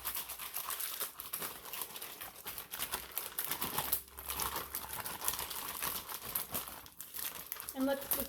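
Lamb pieces sealed in a Ziploc bag with marinade are shaken hard, giving a steady run of plastic crinkling and sloshing rustle close by, with a person talking over it throughout.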